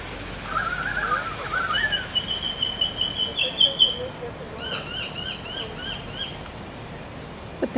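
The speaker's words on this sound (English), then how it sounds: "I want you to try to hear the sounds of these birds" Birds calling from a fig tree near Sydney Opera House, outdoors: a rising whistled call, then a sustained chirping tone and a rapid repeated series of sharp chirps, clear over steady city background noise.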